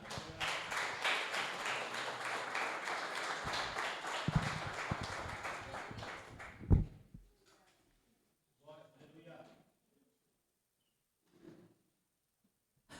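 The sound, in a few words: church congregation clapping in praise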